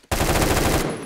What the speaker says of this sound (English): It feels more lighter than the AK-12's gunshots.